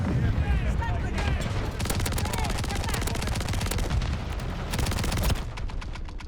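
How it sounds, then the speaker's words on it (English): A stun grenade goes off amid dense, continuous gunfire in the Call of Duty MW3 video game, with rapid shotgun and automatic fire rattling loudly throughout and a voice briefly speaking over the battle. "Stun grenade."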